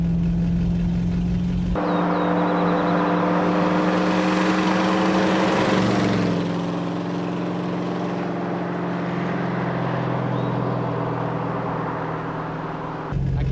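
A steady, rumbling V8 engine of a long-abandoned 1970 Ford Mustang hums continuously from inside the car while driving, with a slight shift in pitch midway as it changes speed.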